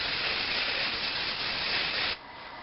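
Hairspray spraying onto hair from underneath, a steady close hiss lasting about two seconds before cutting off into a softer fading tail.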